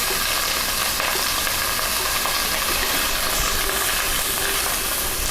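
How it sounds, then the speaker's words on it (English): Onion and garlic sizzle steadily in a hot frying pan for a Maltese stuffed calamari stew, a dense, continuous crackling hiss filling the clip with no talk over it. "And in goes onion. As well as the garlic."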